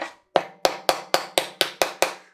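Eight sharp hammer blows strike sheet metal being bent over a table edge for a replica ACES II ejection seat, landing in a steady, quickening rhythm, each a bright ringing clank with a quick decay, close and alone.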